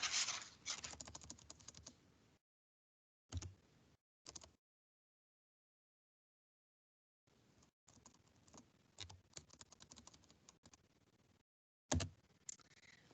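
Typing on a computer keyboard, faint close key clatter in short bursts separated by silent gaps, with rapid runs of keystrokes and a few isolated taps.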